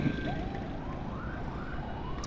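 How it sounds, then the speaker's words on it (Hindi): On a busy Karachi street, an ambulance siren wails in repeated rising and falling sweeps over a loud, constant roar of traffic. "पीछे से एम्बुलेंस गुजर रही है बहुत तेज़ आवाज़ करते हुए"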